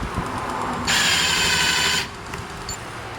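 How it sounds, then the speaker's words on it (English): A power drill whirs steadily for about a second as it bores a hole, then cuts off, leaving quiet room noise. "we're just gonna drill a little hole to start with"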